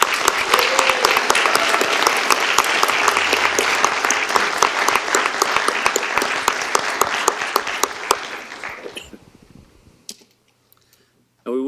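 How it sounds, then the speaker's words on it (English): A school board meeting audience gives a long round of applause, with dense, crisp clapping at close range for about nine seconds that thins to scattered claps and then quiet. "Please join me with one more round of applause"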